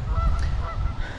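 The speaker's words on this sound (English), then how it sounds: "Geeses are making a ruckus." Geese honking at Wild Wing Lake in Kensington, a loud continuous clamor of overlapping calls from a flock close by, over rumbling wind or water noise.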